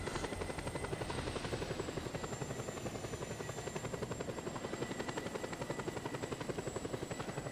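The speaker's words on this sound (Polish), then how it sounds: "bo chcę też, żeby mnie helikoptery nie dopadały" A helicopter from the video game Just Cause 2 drones steadily with rapid, even rotor chopping throughout. The sound is constant and fills the background without pauses, and no one speaks.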